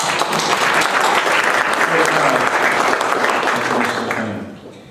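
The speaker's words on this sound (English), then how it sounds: "Oh well, round of applause for" Sustained audience applause fills a computer science scholarship banquet, dense and steady clapping from a full room at close range, holding strong for about four seconds before tapering off.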